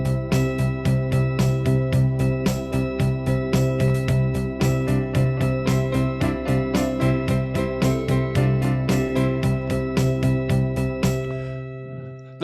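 Solo piano plays a holiday song arrangement, with steady rhythmic chords struck in an even pulse for several seconds before the final chord rings out and fades to silence.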